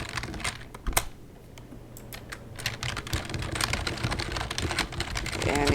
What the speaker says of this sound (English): You can type